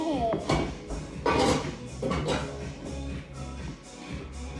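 A big, heavy blue pan gets handled in a home kitchen while French family bread is being made: a few clanking knocks and scrapes of metal, fairly close, over background household noise and voices.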